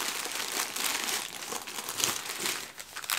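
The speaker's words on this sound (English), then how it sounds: "I often do quite a flamboyant bag opening and then I cut it all out because the rustling is too loud" A yarn bag from an advent calendar crinkles and rustles steadily as it is opened, a close, continuous papery crackle with no voices.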